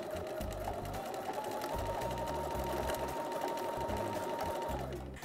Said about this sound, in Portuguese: Vamos só passar aqui 2 ou 3 vezes com a linha, rematando sempre, andando para trás e para a frente